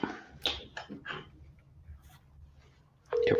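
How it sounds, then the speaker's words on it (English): A telephone call connects, and after a few soft clicks and taps a steady ringback tone starts near the end, clear and close. "It's ringing."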